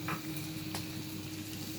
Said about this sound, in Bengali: রসুনটা কিছুটা ভাজা হয়ে গেছে এখন আমি পেঁয়াজ কুচি দিয়ে দিলাম